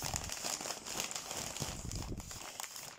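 A double-wrapped package is unwrapped during an unboxing, with steady close crinkling and crackling of plastic wrap and a faint tear now and then.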